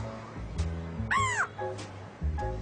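A parrot mimics local bird calls, giving a few separate harsh, crow-like caws and one rising-falling whistled call, spaced out over a quiet background.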